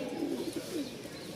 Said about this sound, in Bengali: আগে ডাক দেখেন কবুতরের